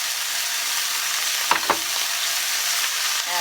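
Chicken sizzles steadily in olive oil in a pan, a loud continuous close hiss with a couple of brief clinks from a utensil midway.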